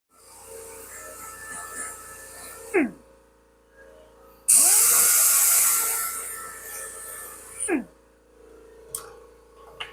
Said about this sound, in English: got everything sanded. This was pretty hard to sand.